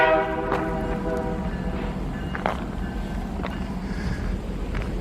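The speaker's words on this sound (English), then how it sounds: "Some of these train whistles are startling me." Train horns sound from a distance near abandoned 19th-century Illinois steel and iron works ruins, several faint whistle blasts rising over steady wind noise and outdoor rumble, with no one speaking.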